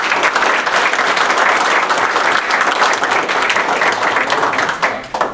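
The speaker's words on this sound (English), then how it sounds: "let's give him a round of applause for him" Loud, sustained applause from an audience welcoming a speaker, a dense wash of many hands clapping together for several seconds before tapering off slightly at the end.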